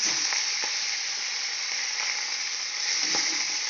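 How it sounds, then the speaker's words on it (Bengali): Small hilsa fish fry lightly in oil in a wok, giving a steady close sizzle with a few soft clicks and pops from the pan. "খোকা ইলিশ মাছটাকে ভেজে নেব হালকা"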